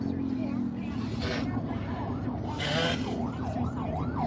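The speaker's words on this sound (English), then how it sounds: "And ambulance trying to get here. Oh, there's ambulance." An ambulance siren wails through busy Manila traffic, its rising and falling tone growing clearer toward the end over steady road noise, while people talk nearby.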